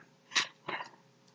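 Two short, sharp bursts of breath a moment apart, like a quick double sneeze, close and fairly loud in otherwise quiet surroundings.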